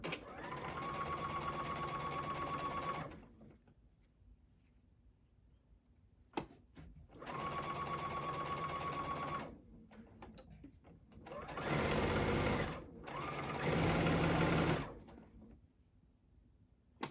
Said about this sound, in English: Once you sew that strip down through all 3 layers